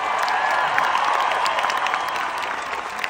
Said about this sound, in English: So please give a massive round of applause to Lauren,